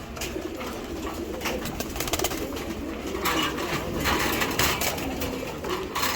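Racing pigeons, male and female birds from a club loft, coo in a continuous low murmur, close and steady, with rustling and fluttering from the flock mixed in.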